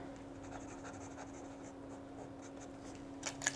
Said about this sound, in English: The paper feels really nice to write on